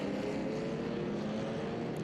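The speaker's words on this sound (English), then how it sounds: "beautiful engine sounds." Historic racing car engines drone steadily during Group 5 qualifying at the Velocity Invitational, a constant mid-distance roar with no break or clear pass-by.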